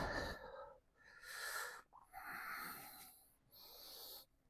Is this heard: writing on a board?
no